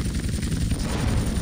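A helicopter in GTA San Andreas on a vigilante mission, its rotor chopping loudly and continuously with a heavy low thrum and a faint high whine, close and steady throughout.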